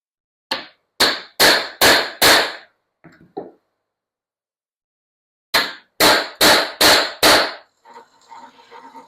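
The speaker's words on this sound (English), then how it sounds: "I have 8 pieces to drill, 4 holes each." Cobalt drill bits bore holes through metal pieces for a heavy-duty sliding truck drawer, heard as two bursts of four or five sharp, loud, evenly spaced strokes separated by a pause, ending in fainter rattling.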